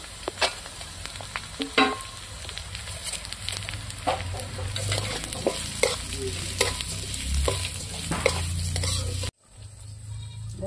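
Cashews, peanuts and gobindobhog rice frying in a pan, with a continuous close sizzle, frequent scraping and clattering of a stirring spoon, and a brief cut near the end.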